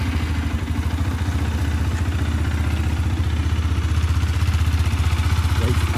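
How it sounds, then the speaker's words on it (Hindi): A Bajaj Dominar motorcycle, freshly serviced with an oil change, idles steadily close by after starting, a low even engine thrum with a slight rhythmic pulse throughout and no talking over it. "चलो इसको अब स्टार्ट करके देखते हैं कि आई डोंट नो कि लोग कहते हैं कि स्मूथनेस वगैरह इंजन की आवाज़ थोड़ी सी बदल जाती है"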